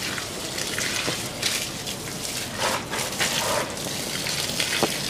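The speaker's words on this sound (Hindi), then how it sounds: "इतनी रात को मैं जाने वाली हूँ प्लांट्स को पानी देने" Water gushes steadily while plants are watered outdoors at night on a summer evening, a continuous splashing flow running alone at close range with no talk.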